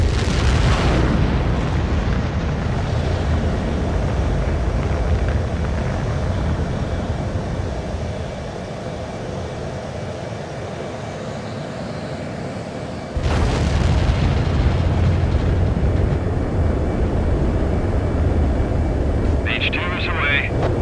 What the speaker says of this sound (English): H2, begin takeoff sequence.